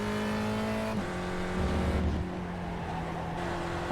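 Race car engine from the iRacing simulator during a dirt-track league race, a loud steady mechanical drone that shifts pitch abruptly as the car spins out, with a burst of rumbling dirt and tire noise.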